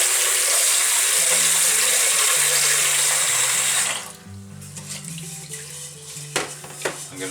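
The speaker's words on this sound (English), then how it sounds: "I'm going to rinse this out" A kitchen tap runs loudly and steadily into a sink as rice is rinsed, then cuts off about halfway, leaving quieter sloshing and clinks.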